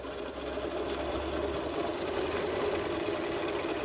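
A sewing machine runs a continuous zigzag stitch along the corners of a fabric lunch bag, a fast even whirring with a slight hitch early on, fairly quiet and with no voices.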